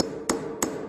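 Two quick, sharp hammer strikes a moment apart, close and loud, ringing slightly, setting nails in wooden stair nosing.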